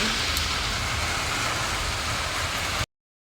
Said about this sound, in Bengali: বিকালবেলা দেখো প্রচুর বৃষ্টি হচ্ছে